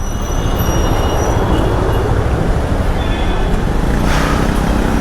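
A metro train rolls past alongside a road bridge in Bangalore, loud and close, with continuous rail roar, clatter and faint wheel squeal throughout.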